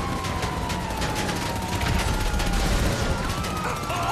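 Rapid gunfire during a GTA Online police chase, dense crackling shots over a wailing siren that slides up and down, loud and continuous throughout.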